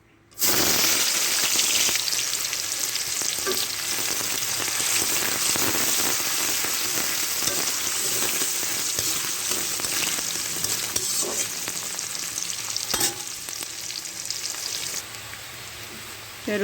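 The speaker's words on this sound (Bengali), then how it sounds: "কড়াইতে তেল দিলাম, তেল গরম হয়ে গেলে আমি পেঁয়াজ কুচি দেবো।" Chopped onion fries in hot oil in a kadai, giving a loud, continuous close-up sizzle with occasional stirring scrapes throughout.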